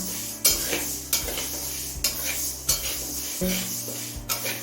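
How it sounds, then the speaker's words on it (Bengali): Moong dal being dry-roasted in a kadai over medium flame, with repeated scraping strokes of a spatula against the metal at a regular rhythm over a low background hum. "এবার মিডিয়াম ফ্লেমে ডালটা হালকা করে ভেজে নেবো"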